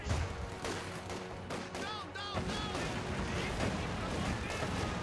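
Mortar blasts and gunfire in the video game Company of Heroes 2, a dense run of booming impacts and crackling shots continuing throughout, with voices mixed in.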